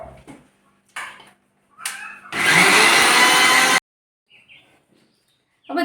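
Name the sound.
mixer grinder grinding black peppercorns and turmeric powder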